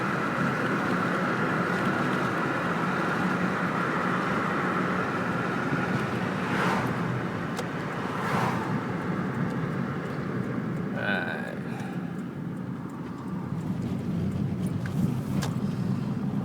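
Car driving through a college campus, a steady, loud engine and road rumble filling the whole stretch with a few brief swells, heard from inside the vehicle.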